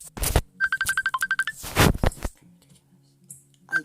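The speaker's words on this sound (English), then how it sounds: "it's 12 o'clock at night now and somebody's ringing" A mobile phone rings late at night, a bright repeating electronic ringtone of quick evenly spaced tones, interrupted by short bursts of nearby noise and movement.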